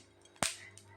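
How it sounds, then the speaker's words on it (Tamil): White sesame seeds hitting hot oil in a pan, giving a single sharp crackling pop over a faint low hum. "இப்போ எள்ளு போட்டோன்னே லைட்டாக வெடித்தா மட்டும் போதுங்க."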